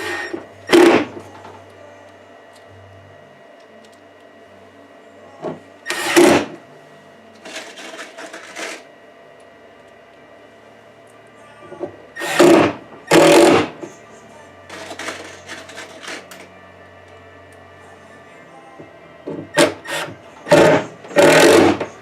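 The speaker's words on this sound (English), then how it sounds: "drill gun here." Loud bursts of a power drill driving screws in short spurts, separated by quieter stretches of low background hum, close by.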